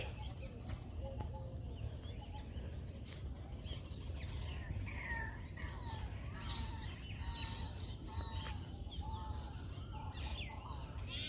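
Birds call outdoors in a village after rain: scattered faint chirps and a few caw-like notes repeat over a low, steady background rumble, fairly distant and quiet throughout.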